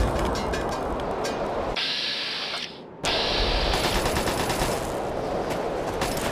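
Dense automatic gunfire in the PC game Fallout 3 rattles loudly and almost continuously, dropping out briefly in the middle before the rapid bursts resume.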